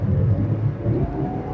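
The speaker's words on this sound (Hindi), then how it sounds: "अब मैं आपको थोड़ा सा गाड़ी को दौड़ा के दिखाता हूँ" A Hyundai Grand i10 Nios running on CNG, with the air conditioning on and three people aboard, accelerates with a steady low engine rumble heard from inside the cabin, close and continuous, with no talking.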